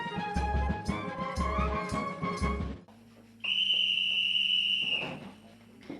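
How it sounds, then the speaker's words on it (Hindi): A whistle sounds at an army training camp, marking bedtime at night: a long, steady tone held for a second or two after a stretch of other loud activity, fairly distant and not very loud. "ठीक 10 बजे की सीटी ऐलान करती है सोने के वक्त का।"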